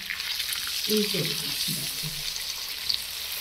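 Tandoori chicken pieces frying slowly in a pan on a low flame, a steady soft sizzle with a few brief stirring and shifting sounds, quiet and close.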